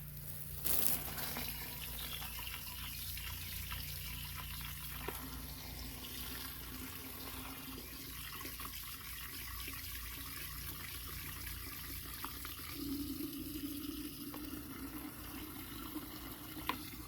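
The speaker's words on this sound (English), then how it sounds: "let's fill that back up with water and see how cloudy it gets again" Tap water pours steadily into an office fish tank holding freshly added sand and gravel, a continuous close rushing and splashing with no talk.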